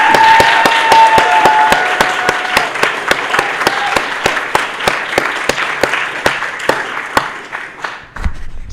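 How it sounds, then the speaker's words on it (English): Steady audience applause for literature graduates at a university department graduation celebration, with sharp individual claps ringing through a sustained crowd clapping that fades out near the end. "please join me in applauding our graduates, all of them, one more time"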